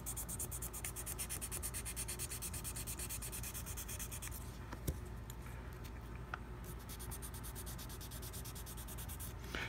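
Fine 600-grit sandpaper rubs over the bite area of a mouthpiece during a repair, a soft, faint rapid scratching that keeps an even back-and-forth rhythm, with a brief pause and a couple of small clicks midway.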